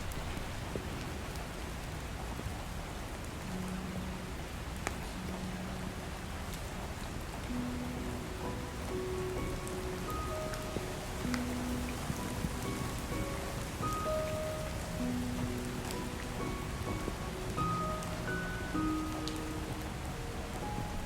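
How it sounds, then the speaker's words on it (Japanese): Night rain in the video game Love and Deepspace falls in a steady, even hiss, with soft melodic tones of the game's background music playing underneath throughout. "下雨了，我没带伞，"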